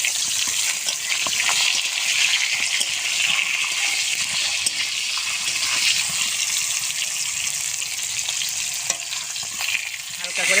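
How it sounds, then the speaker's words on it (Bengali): Pointed gourd (potol) slices fry lightly in oil with salt and turmeric. A loud, continuous close sizzle carries scattered crackles and occasional stirring scrapes. "হালকা করে পটলগুলো ভেজে নিয়েছি"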